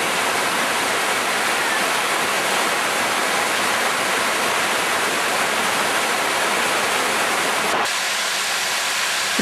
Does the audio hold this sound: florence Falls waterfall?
yes